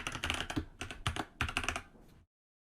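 Rapid keystrokes on a computer keyboard while a password is entered, a close, crisp run of clicks in several quick bursts with short pauses, stopping abruptly near the end.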